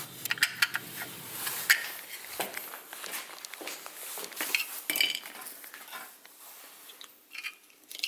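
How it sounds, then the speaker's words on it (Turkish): A spatula pries and scrapes the lid off a small 3D-printed plastic box built to hold an electronics module, giving several sharp clicks and clinks amid softer handling scrapes, close and fairly quiet. "Kapağı biraz zor çıkacak şimdi yerinden spatula sokarak"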